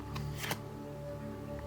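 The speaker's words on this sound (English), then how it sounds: "I literally started shuffling the decks" A deck of tarot cards is shuffled in a brief, soft riffle of papery flicks over a steady tonal background, with no talking.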